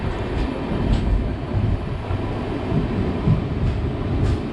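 Train on the Bangalore to Kanyakumari route at Vadakkanchery railway station, a loud continuous low rumble of rolling wagons with faint rhythmic clatter throughout.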